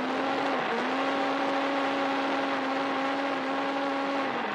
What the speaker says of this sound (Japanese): NA ということもあってロータリーのようなサウンド。